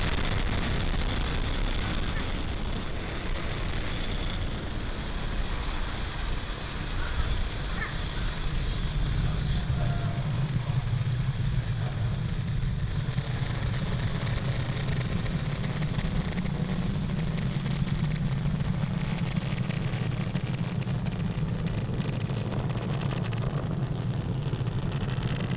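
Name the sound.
SpaceX Falcon 9 rocket lifting off from Cape Canaveral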